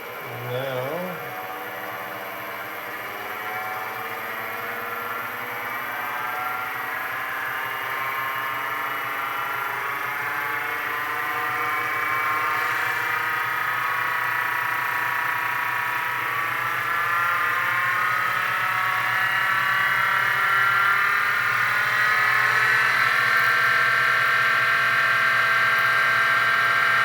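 A WEN 34027 lathe motor runs steadily for the whole stretch, its whine rising and shifting as the speed changes from high to low, with a continuous tonal hum and faint background noise.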